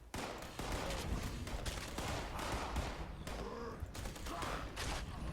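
A Tesla rifle firing in Fallout 76, unleashing a rapid, dense crackle of repeated shots with sharp bursts and brief gaps, loud and close against a busy background.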